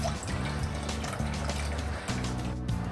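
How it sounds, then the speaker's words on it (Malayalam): Water is poured into a clay pot holding a bitter gourd curry base of smoothly ground paste, giving a steady, continuous liquid pour close by with no talking. "ഇനി കുറച്ചുകൂടെ വെള്ളം ഒഴിച്ചു കൊടുക്കുക."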